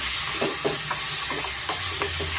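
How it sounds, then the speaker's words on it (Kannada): Instant rasam premix is stirred in a pan over a medium flame, with a spoon scraping in a repeated rhythm over a constant close sizzling hiss. "ಇದನ್ನು ಮೀಡಿಯಮ್ ಫ್ಲೇಮಲ್ಲಿ ನಾವು ಇದನ್ನು ಮಿಕ್ಸ್ ಮಾಡ್ಕೊಳ್ಳೋಣ"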